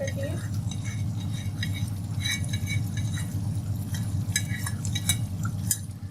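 Gravy stirred into chicken karahi in a wok, with continuous scraping and clinking of a spoon against the metal over a low bubbling hum.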